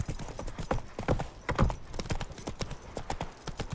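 Roach the horse trots along in The Witcher 3 Wild Hunt, hooves clip-clopping in a steady, close rhythm under soft ambient game sound, with no talk.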